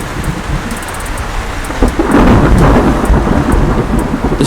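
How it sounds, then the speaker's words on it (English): Torrential rain pours hard in a thunderstorm, a dense loud hiss joined by a deep rolling thunder rumble that swells midway and lingers. "a lone stranger wandered through the torrential downpour"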